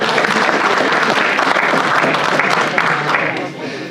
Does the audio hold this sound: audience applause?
yes